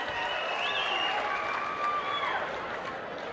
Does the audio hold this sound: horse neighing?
no